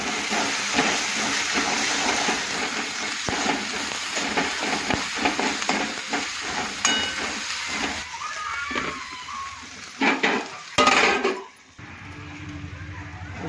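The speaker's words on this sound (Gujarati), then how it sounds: "જો મસાલો મસ્ત શેકાઈ ગયો" Ground masala roasts in a pan for a brinjal and potato curry, a steady sizzle broken by rhythmic scraping strokes of a spoon, ending in a few louder clatters.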